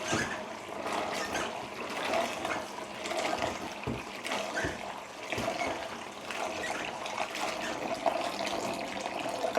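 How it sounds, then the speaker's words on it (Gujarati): Running hot water splashes and trickles steadily, with occasional soft knocks and rustles as green beans are rinsed under a stream. "હજુ આપણે એકવાર ગરમ પાણીથી મસ્ત ધોઈ નાખીએ"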